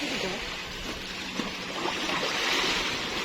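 Strong ocean waves at high tide surge and wash continuously at a beach in Oslob, a broad close roar with brief splashes, and people talking over it.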